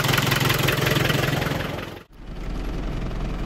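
A car engine idles steadily while warming up after a head-gasket leak repair product was added, a close, even rumble that briefly dips around the middle before settling back to a steady drone.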